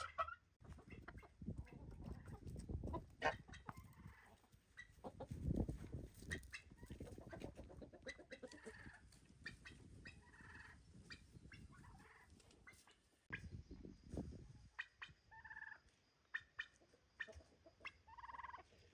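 Turkeys gobbling and clucking outdoors, bursts of poultry calls rising and falling among other farmyard birds, with no talking.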